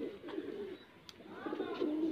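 High flyer pigeons in a loft give soft, throaty coos close by, a couple of short calls rising and falling over quiet background noise.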